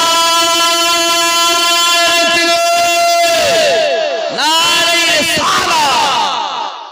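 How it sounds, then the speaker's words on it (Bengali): A crowd at a night-time Bengali religious sermon shouts the takbir chant together in loud, sustained unison over a reverberant sound system, with the voices swelling and breaking into overlapping calls. "একটু মহব্বতে তাকবীর দেন"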